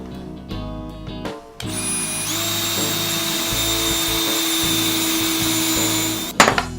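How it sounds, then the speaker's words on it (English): A power drill bores pilot holes into a block of wood. After a few brief knocks, the motor runs up to a steady, close, loud whine for about five seconds, then stops with a clatter. "So let's drill these holes in the wood."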